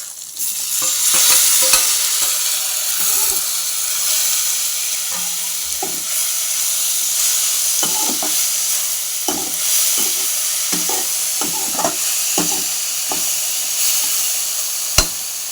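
Tomatoes fry in a pan for a bitter gourd dish, with a steady sizzle running throughout. A spoon stirs them and scrapes the pan in short, repeated strokes, and the sound is close and fairly loud.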